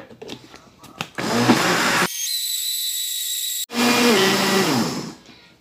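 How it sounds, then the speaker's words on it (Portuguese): Small kitchen blender whirring as it mixes milk, a steady loud motor whine that changes pitch midway and then winds down, following a few clicks at the start. "Primeiro eu vou bater ali a primeira porção de leite, porque o meu liquidificador é dos pequenos, para eu conseguir misturar bem."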